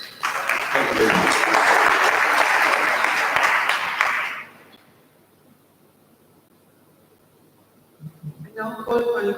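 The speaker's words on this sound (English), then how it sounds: "I think they deserve a huge round of applause." Audience applause at a matric awards ceremony, loud dense clapping for about four seconds that cuts off into near silence, followed by a voice speaking.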